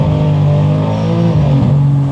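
A 1000 hp all-wheel-drive BMW M3 pulls hard through second gear, its engine note loud, close and steadily climbing in pitch with one brief dip partway through, and no voices over it.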